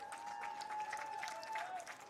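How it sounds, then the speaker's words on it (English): Steady applause from spectators at a girls varsity lacrosse game as the final seconds run out, a sustained patter of clapping with a long tone sounding through it. "The applause starts."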